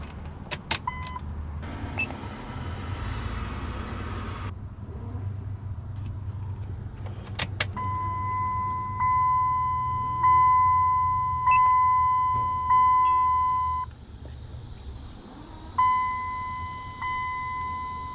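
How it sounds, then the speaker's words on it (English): A truck's ignition is switched on and off, setting off repeated electronic warning beeps in steady bursts over a low running hum, with faint clicks and a brief rattle early on and no talking. "Ignition on. Turn ignition off again."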